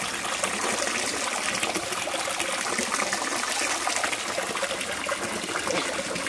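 Cold, clear spring water at Burabod flows and gushes steadily and close by, a loud continuous splashing stream with no talk over it.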